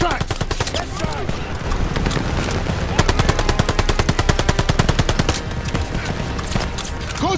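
Rapid machine gun fire rattles almost nonstop in a Call of Duty: Vanguard battle beside a half-track, loud and close, with bursts intensifying midway and faint shouted voices underneath.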